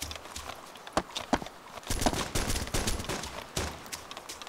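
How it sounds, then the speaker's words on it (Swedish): Gunfire in the video game ArmA 2, scattered sharp shots and bursts of varying loudness, some close and some farther off, with a busier cluster of rapid shots in the middle. "Ja, jag hör skott där till vänster någonstans på fältet"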